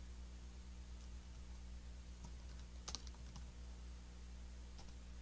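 Soft keystrokes on a computer keyboard as a search term is typed in, a short run of quiet taps and clicks over a faint steady hiss, with no talking.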